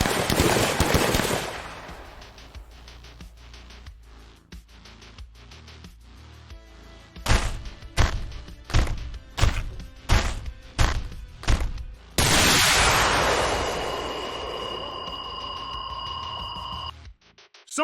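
A volley of gunfire as a sound effect: a burst at the start, then a rapid series of about eight loud, sharp shots at a steady rhythm, followed by a sustained rushing roar with a high ringing tone.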